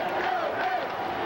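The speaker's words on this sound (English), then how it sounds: "You hear the crowd chanting, "Let's go Mets."" A baseball crowd at a Mets at Astros game in Houston chants in unison, a dense, steady roar of many voices filling the stadium without pause.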